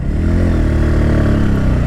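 A 2023 Bajaj Pulsar P150 motorcycle engine runs steadily up close, its loud rumble shifting slightly in pitch as it changes gear from third to fourth.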